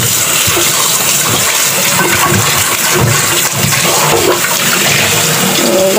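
Water gushes steadily from a tap while dried dates are washed in a kitchen, a loud, continuous broadband rush with no pauses throughout.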